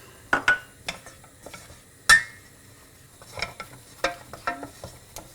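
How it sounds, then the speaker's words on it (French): Sharp scraping and clicking of a utensil against a saucepan as flour is stirred into melted butter for a roux, irregular strokes with a faint sizzle underneath, close by. "J'ajoute la farine et je remue bien."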